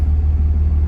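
A Cummins 5.9 diesel truck engine with 418,000 miles and a six-speed manual runs with a deep, steady, pulsing rumble in a very short burst.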